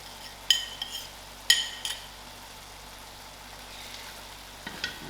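Gram dhal being stirred as it fries in a pan, a soft steady sizzle broken by a few sharp scraping clinks of a spoon against the pan, with no talking.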